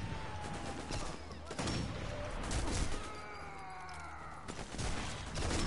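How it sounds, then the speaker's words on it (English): Sniper rifle gunfire in Sniper Elite 4 multiplayer, several loud cracking shots spread across a busy, noisy battle soundscape with whizzing tones, repeated sharp reports rather than a steady stream. "Paul's shooting at me."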